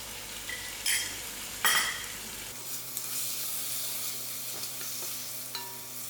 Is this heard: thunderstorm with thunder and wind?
no